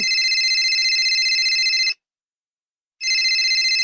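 A mobile phone rings loudly and close with a steady electronic ringtone that sounds for about two seconds, stops briefly, then starts again.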